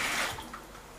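Soaked akara mixture pours and drains through a strainer, a close, wet splashing and trickling rush of water that fades over about a second.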